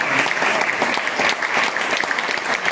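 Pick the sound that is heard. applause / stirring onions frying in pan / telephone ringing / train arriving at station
applause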